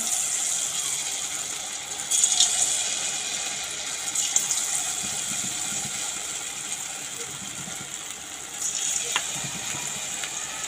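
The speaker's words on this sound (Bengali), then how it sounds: "দেখো এখানে ভাজতে চলে এসেছি। তেলটা ভালো মতো আমি গরম করে নিয়েছি।" Pointed gourd (potol) slices frying in well-heated oil, a continuous loud crackling sizzle over the whole stretch, with a few brighter spatters and faint clinks as pieces go in.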